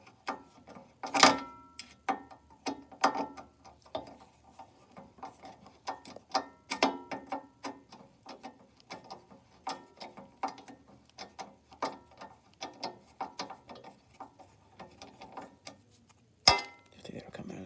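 Screws are loosened on a carburetor during disassembly, giving faint, irregular metallic clicks and ratcheting ticks close by, with a few sharper snaps.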